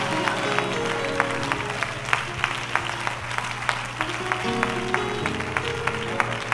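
Church congregation clapping in praise during a worship service, a steady patter of hand claps with sharper individual claps spaced through it, moderately loud over a low sustained organ or keyboard tone.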